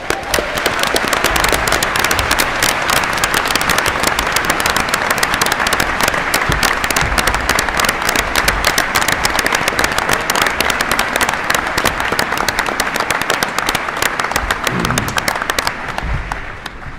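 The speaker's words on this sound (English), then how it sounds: "a great round of applause" A town meeting audience gives a long, loud ovation, dense unbroken clapping from a large crowd that keeps going for many seconds before thinning out near the end.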